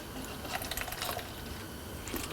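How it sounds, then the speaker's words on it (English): Water pouring out of a tipped pan into a cup, a steady close trickle and splash with a few brighter bursts, no talking. "all the rest of this water get out of the pan"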